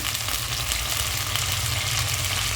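Mint leaves frying in hot oil as the tempering for a goat head curry, giving a steady, loud sizzle that holds evenly throughout with no talk over it.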